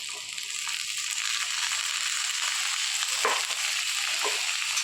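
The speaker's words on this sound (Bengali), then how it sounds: "আমার এখানে রাজমা আর আলুটা একটু ভাজা হয়ে গেছে 2 মিনিট মতন" Boiled rajma beans and potato pieces fry in oil in a pan, giving a dense, steady sizzling hiss close up, with a couple of soft stirring scrapes and light rattles.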